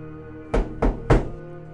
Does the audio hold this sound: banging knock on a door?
yes